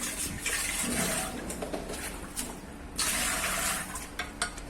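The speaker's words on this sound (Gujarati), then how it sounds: "હવે આપણે અંદર પાણી નાખીશું" Water is poured steadily into an old clay pot, making a close, sloshing fill sound with a second louder gush partway through; faint bird calls sit in the background.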